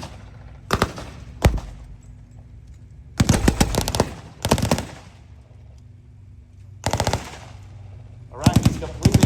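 Machine guns fire during a battle reenactment at the Aquino Tank Weekend, Canadian Tank Museum in Oshawa. Several loud, rapid bursts are separated by quieter gaps, some short and some longer and sustained.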